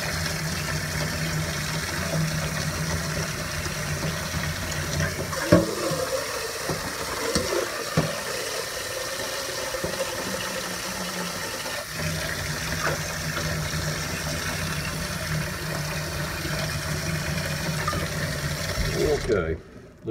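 Water and crushed Nandina seed pulp poured and swirled in a pan, a steady running-water wash with a brief clatter partway through, close and fairly loud, ending abruptly.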